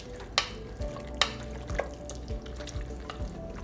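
Ingredients for a veggie lasagna are stirred together in a bowl, giving soft wet churning with a few sharp taps of the utensil against the rim, close and fairly quiet, with no talking.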